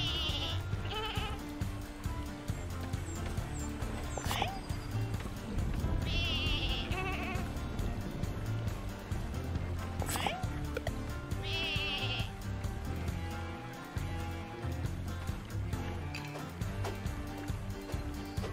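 Sheep bleat several times in short, wavering cries in the game Lumberhill, over a low steady background hum, with a couple of sharp clicks between them.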